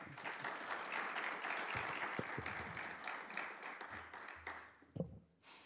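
An audience applauds Isabel after her lecture on Queen Urraca, a steady wash of clapping from many hands that thins and fades near the end.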